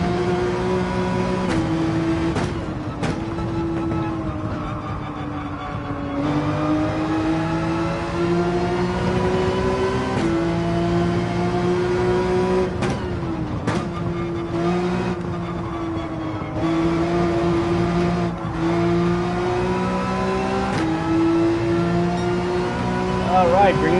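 A GT3 race car in Gran Turismo 7 at Trial Mountain accelerates hard, its engine note climbing steadily and dropping sharply at several gear shifts, loud and continuous throughout, with a voice talking over it.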